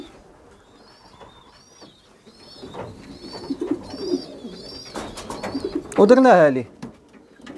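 Pigeons coo in soft repeated calls with some high chirps, close by, while someone speaks over them and a louder coo rises near the end.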